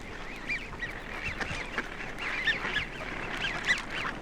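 A flock of mallards mixed with widgeon sitting on the water calls repeatedly, rising whistled and nasal notes overlapping in a busy chorus at moderate distance, no talk.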